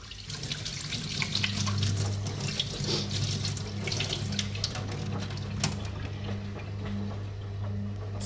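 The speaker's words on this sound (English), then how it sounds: "1 second while I wash my hands." Kitchen tap running steadily into a sink as hands are washed, a close, even rush of water with small splashes and clatters over the flow throughout.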